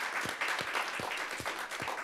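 A room full of people at an annual meeting applauds together, a dense, steady wash of clapping lasting about two seconds.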